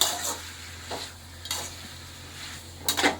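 Green chilli chicken is stirred in a pan, with about four scraping spoon strokes over a low, steady sizzle, close and fairly quiet, with no talking.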